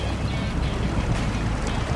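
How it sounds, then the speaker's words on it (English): A truck wades through deep water in SnowRunner, water only up to the radiator, its spinning tyres churning it into a steady, loud, dense wash of splashing and rumbling with no break. "as we come through this water, I can see the tyres are spinning"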